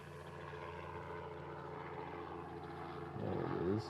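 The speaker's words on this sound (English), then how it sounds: "Hawaiian will be in first. It's coming in from Tokyo, Haneda. It's Hawaiian flight 864. It's a 330." A Hawaiian Airlines Airbus A330 on approach to Honolulu, inbound from Tokyo Haneda, gives a steady low engine rumble at a distance that swells and grows a little louder toward the end.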